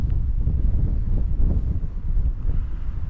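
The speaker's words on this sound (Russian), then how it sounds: "Погода сегодня ветреная, с порывами." Strong wind buffets the microphone with a constant low roar that swells and eases in gusts, with no voices, outdoors by the Eskeldi Bi mausoleum and a large cemetery in Eskeldi Bi village, Karatal District, Zhetysu Region.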